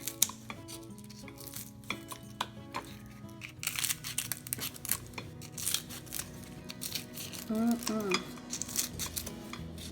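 Crispy side pork belly being cut on a board, with repeated crunchy knife strokes and clinks of utensils building in the second half, fairly close, no talk.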